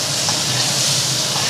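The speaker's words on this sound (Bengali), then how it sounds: "এই যে সয়াবিন সিদ্ধ করে রেখেছিলাম, সয়াবিন দিয়ে দিচ্ছি।" Boiled soybeans go into a pan of vegetables frying in a little oil for an ash gourd curry, giving a steady close sizzle with faint stirring and no talk.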